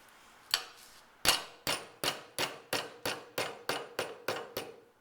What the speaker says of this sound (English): we're going to strike the metal rod with the face of our hammer